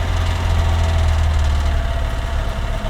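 A VAZ 2107 engine that knocks, smokes and burns oil idles cold with the choke pulled fully out: a loud, close, steady rumble with a rough low throb throughout.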